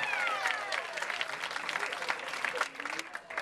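Guests at a country club wedding reception applaud in a sustained round of clapping, mid-distance and fairly dense, with a whistle and some cheering mixed in before it thins out at the end.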